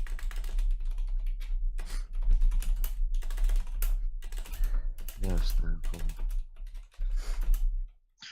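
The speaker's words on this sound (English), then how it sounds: "Are you typing something right now?" Rapid clattering keystrokes on a computer keyboard, steady and close, with brief pauses, while a voice speaks briefly over the typing.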